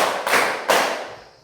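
A classroom of pupils claps together, with two clear, loud group claps heard close by, the second sharper than the first, each fading quickly, with no talking.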